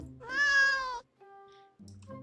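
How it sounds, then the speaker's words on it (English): A pet cat gives a long, loud, drawn-out meow up close, followed by a shorter, softer second meow after a brief gap. "That's my cat. This is my therapy cat,"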